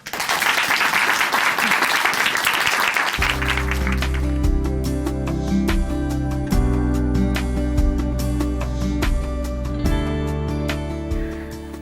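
An audience gives warm applause as a speaker is welcomed at a church broadcast event, with dense clapping that gives way to a loud musical accompaniment.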